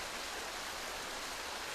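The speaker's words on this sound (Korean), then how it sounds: "계곡을 따라 힘차게 흐르는 물소리에 저도 모르게 마음을 뺏기고 말았습니다" A mountain stream at Cheongpyeongsa temple rushes along its valley, a dense, continuous hiss of flowing water close by, steady and alone with no voices.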